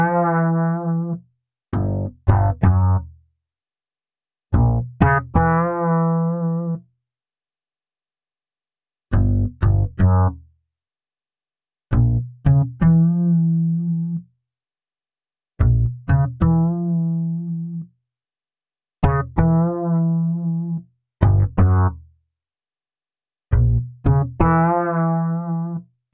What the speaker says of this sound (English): here it is with the dispersion filter and mod automated